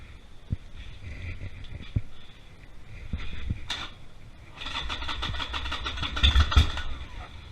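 Harley-Davidson Sportster motorcycle engine being started, with several cranking attempts and sputters before the motor catches into a rough, close, lumpy idle.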